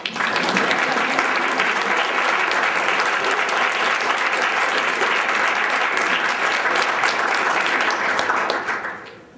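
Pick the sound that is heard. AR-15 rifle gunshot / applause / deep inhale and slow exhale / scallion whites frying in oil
applause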